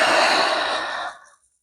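A single long, breathy exhale during a slow yoga flow, loud and close, fading out smoothly after about a second.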